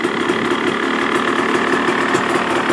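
A 2015 KTM 300 EXC two-stroke dirt bike engine idles high, a steady, close, buzzy drone with a fast regular pulse and no voices over it.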